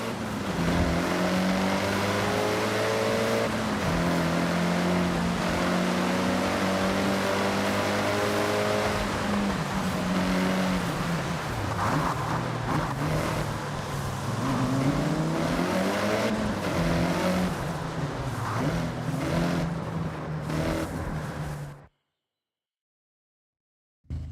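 A turbocharged rally car with anti-lag in the Forza video game revs hard and shifts through gears with rising and falling whines, loud and close, before cutting off abruptly.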